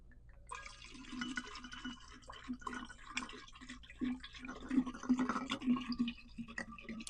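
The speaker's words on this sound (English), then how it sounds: "I got to make sure I pour it down so it doesn't splash out of the container." Cheap wine, a $2 Charles Shaw bottle from Trader Joe's, glugs into a container in irregular gurgling pulses that grow slightly louder, close and otherwise quiet.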